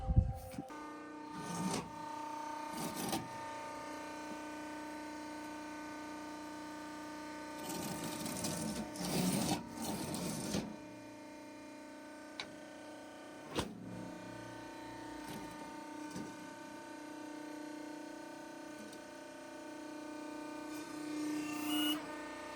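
Motor of a hydraulic earth block press running at just under 2000 RPM, a steady mechanical hum with rhythmic clatter and a few louder bursts of machine noise, heard from close by.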